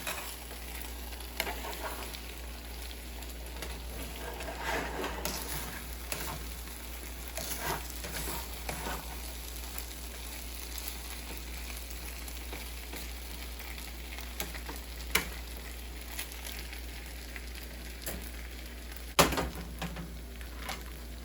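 Spam fried rice sizzles and crackles steadily in a hot pan, with a continuous close frying hiss and scattered pops for the whole stretch, and no talking.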